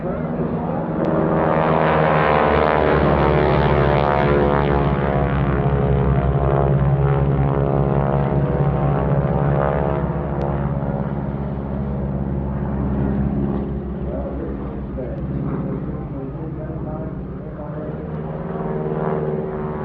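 A propeller aircraft roars through an aerobatic airshow display, its engine drone loud and sustained with shifting pitch, while a commentator talks over it throughout.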